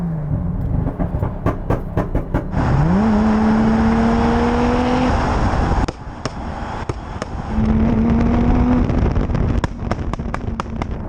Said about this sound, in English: if I now put it into number 4, you get some pops and bangs